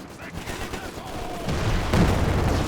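Dense machine gun fire and battle noise in Company of Heroes 2, a loud, continuous rattling barrage that thickens toward the end, with no clear gaps between bursts.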